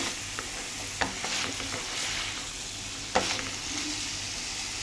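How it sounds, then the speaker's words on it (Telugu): Curry frying in a pan, giving an even, close sizzle throughout with a couple of sharper clinks or stirring knocks, with no voices. "మంచిగా అనేది అవుతుందండి ఫ్రై అనేది."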